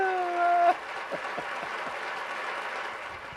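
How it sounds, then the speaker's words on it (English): A held electronic organ chord from a Lowrey touchscreen keyboard cuts off, followed by faint, sparse applause that sounds like a recorded clapping effect, steady and thin in the room. "I'll give myself a round of applause."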